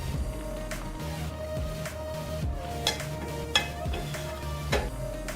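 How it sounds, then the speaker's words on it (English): A spoon works coconut paste and lightly crushed mustard seeds into cooking pineapple in a pan, giving soft scraping strokes and occasional clinks against the metal over a low sizzle. "Add the lightly crushed mustard seeds and stir well."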